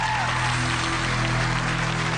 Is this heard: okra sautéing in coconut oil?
no